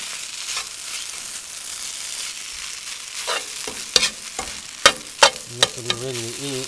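Golden chanterelle mushrooms frying in a pan at a campsite, with a steady sizzle under a series of sharp scraping stirs and clacks of a utensil against the pan, loud and close, no talking.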